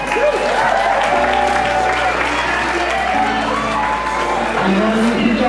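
Wedding guests applaud and cheer at a reception, with a dense, loud clatter of clapping and scattered whoops while music or an announcer's voice carries faintly underneath.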